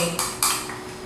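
Icing for a malt cake being mixed in a bowl, heard as two short, close clatters of utensil against the bowl, followed by quieter scraping and silence.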